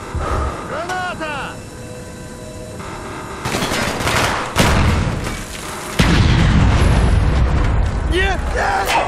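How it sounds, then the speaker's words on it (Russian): A grenade blast in the shooter game Call of Duty: Black Ops on the Baikonur map, booming loudly amid surrounding gunfire and battle noise, with players shouting over the action. "Граната!"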